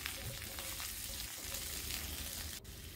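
Chopped garlic and boiled chestnuts stir-frying in a pan give a steady dense sizzle with faint stirring, heard up close and alone.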